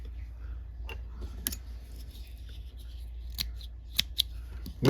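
Scissors snip fly-tying fibers while a shrimp fly is being tied. Sharp separate cuts come close together, some louder than others, over a low steady hum. Nobody speaks.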